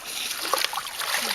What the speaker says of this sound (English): Now, we'll put some water in here.